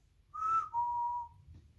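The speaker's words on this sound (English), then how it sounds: "you raise the whistle to your lips and blow a delicate bird call" A whistle blown as a delicate bird call, two clear pure tones in a row, the first slightly higher and shorter, the second held steady and fading, alone over a faint low rumble.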